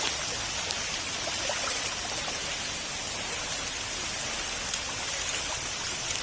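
Steady rain pours down in a constant hiss, with occasional louder drips and patters over the even downpour, at a market during flooding.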